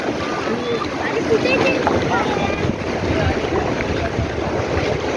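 Boat carrying divers out on the sea off Malvan, Konkan, a constant washing rumble of water and wind buffeting the microphone, with people talking over it.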